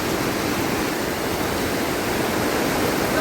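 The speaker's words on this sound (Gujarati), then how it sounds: "વરસાદ છે એકદમ ધોધમાર શરૂ" Heavy monsoon downpour in Modasa, a steady dense roar of rain with no pauses, loud and close throughout.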